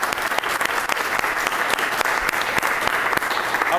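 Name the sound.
applause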